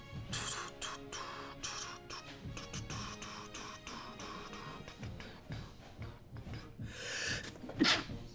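A single sharp sneeze near the end, close and fairly loud, over a busy indoor background of scattered knocks and faint music-like tones.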